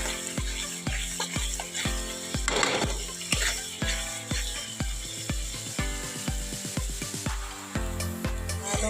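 Chili and turmeric powder frying in a pan for a prawn curry, a soft sizzle under regular knocking and scraping of a spoon against the pan in a steady rhythm.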